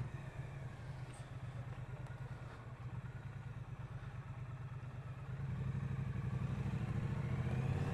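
A Triumph Street Cup motorcycle being ridden, its engine giving a steady, low, throbbing drone with a fast pulse that swells a little louder toward the end, heard up close with no voices.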